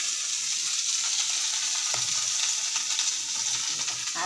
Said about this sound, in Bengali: একটু পেঁয়াজটা হালকা ভাজা হলো